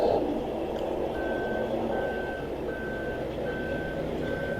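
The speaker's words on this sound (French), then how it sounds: "Excusez-moi si vous entendez un bip, c'est mon téléphone portable." A mobile phone beeps repeatedly at an even pace, about five tones in a row, over a constant noisy rumble.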